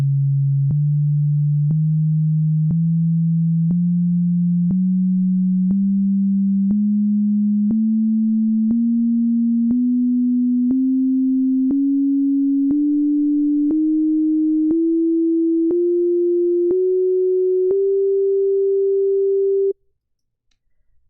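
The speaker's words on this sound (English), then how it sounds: "this sine wave is just moving up incrementally" A pure sine tone climbs in pitch in small even steps, each step marked by a faint click, held steady and loud for about twenty seconds before stopping abruptly.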